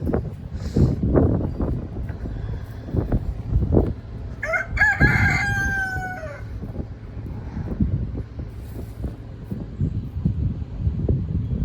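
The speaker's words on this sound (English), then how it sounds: "They do crow a lot when it's windy." A rooster crows once, clear and fairly close, amid gusty wind buffeting the microphone and scattered knocks.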